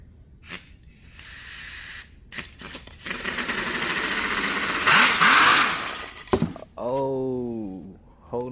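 An air-powered inline six-cylinder car runs with a steady hissing, rushing exhaust and mechanical noise, rising louder midway, with brief speech-like harmonic bursts near the end.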